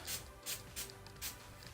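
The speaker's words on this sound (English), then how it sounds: "And then I'm going to spray my brush." Four quick hissing bursts of setting spray misted onto a makeup brush, short and soft, evenly spaced and heard close up in a quiet room.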